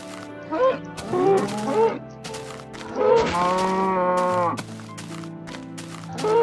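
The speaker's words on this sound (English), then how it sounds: "Oh, some cows over there." Cows moo a few times in quick succession in Minecraft Xbox 360 Edition, drawn-out lowing calls close by, with short clicky game sounds between them.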